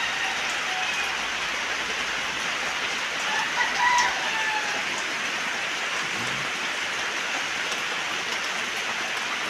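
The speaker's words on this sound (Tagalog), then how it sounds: "Napakaaga po ng ulan." Steady rain hisses down without a break, a dense wash of drops, with a faint rooster crow somewhere in the distance.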